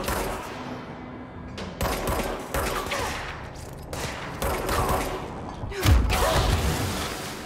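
Repeated gunfire bursts from the action game Control, loud close shots and thuds recurring every second or so with dense crackling in between.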